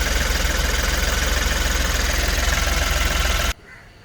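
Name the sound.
Ashok Leyland Dost LS truck diesel engine idling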